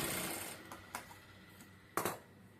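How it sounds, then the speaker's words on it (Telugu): Sewing machine stitching a straight seam on a plain blouse, heard as a faint steady mechanical whir with a few brief louder bursts of running stitches, no talk. "స్ట్రైట్ తీసుకుని ఒకే లెవెల్లో చూసుకుంటా ఇలా కుట్టుకోవాలి"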